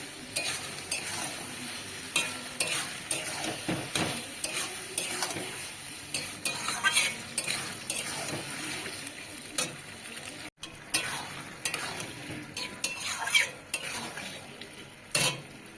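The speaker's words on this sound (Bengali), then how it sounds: "এবার যে কাঁচা পনিরগুলো আমি দিয়ে দিলাম এবার দিয়ে বেশ আলতো আলতো করে নেড়ে নিতে হবে" Raw paneer cubes being gently stirred in a sizzling pan of chilli paneer, with irregular scraping and clinking of a spatula against the pan over a continuous frying sizzle, close up and without speech.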